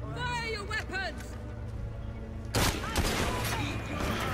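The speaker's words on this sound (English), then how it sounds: "Fire your weapons!" A sudden, loud volley of gunfire from a gang fight in Assassin's Creed Syndicate, bursting in partway through after people shout, then trailing into scattered shots and commotion.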